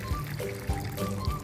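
Water pours into a cement mixer drum to mix plaster, a steady close splashing and gurgling with rhythmic churning thumps beneath it.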